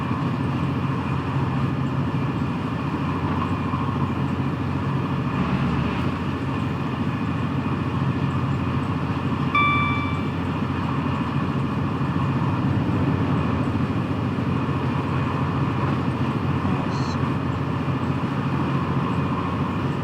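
An intermodal freight train rolls past steadily in Train Simulator Classic on the Trent Valley line, a continuous loud rumble of wheels and wagons with no talking.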